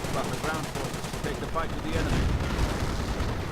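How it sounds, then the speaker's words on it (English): Rapid gunfire from advancing German panzer forces in a World War II strategy video game, a dense sustained rattle of shots and battle noise filling the whole stretch, with a voice speaking over it. "Panzer Force advancing. And opening up on the British troops."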